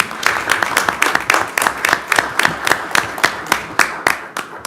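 A council chamber audience applauds the project team and steering committee, with brisk, even clapping that holds steady for several seconds before thinning out at the end.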